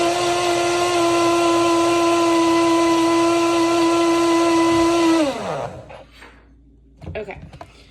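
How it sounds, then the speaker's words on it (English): A blender whirs at a steady, high-pitched whine as it mixes a Mocha Blast shake with coffee, running loudly for about five seconds before winding down, followed by a short clatter. "And I'm going to blend this up first."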